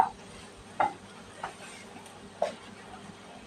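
Onions and carrots sauté in a pan with a soft background sizzle, broken by a few sharp scraping stir strokes at irregular intervals.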